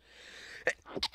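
A single sneeze bursts out near the mic during a game developer livestream, followed by a couple of short breathy sounds, over a faint steady background hum.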